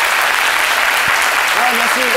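Studio audience applause on a French midday television show, loud dense clapping filling the whole stretch, with a voice briefly heard over it toward the end.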